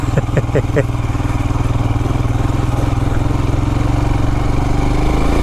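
A Royal Enfield Himalayan runs at a steady throbbing pulse while being ridden on dirt trails, loud and close, its low rhythmic chug carrying throughout.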